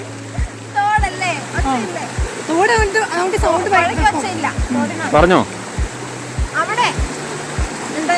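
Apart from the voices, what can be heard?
small stream flowing near Paithalmala waterfalls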